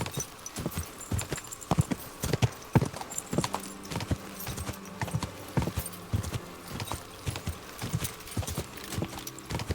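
Horse hooves clip-clopping in Kingdom Come: Deliverance II, a steady, close rhythm of hoof strikes at a gait with the occasional snort or whinny, heard alone without talk.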